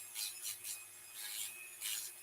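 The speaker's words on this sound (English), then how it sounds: "I'm just carefully sanding it away in a sawing motion, a sweeping motion." Hand-sanding a toy with sandpaper in a sweeping back-and-forth motion: soft, close scratchy strokes in a steady rhythm, about six passes, heard alone.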